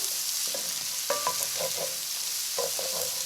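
Onions soften in a pot that is starting to catch on the bottom, frying with a soft steady sizzle while a spoon stirs and scrapes in a few distinct knocks.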